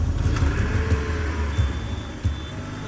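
A car engine rumbles low and close as the vehicle pulls away, with a steady motor drone and a few faint knocks and bumps over it.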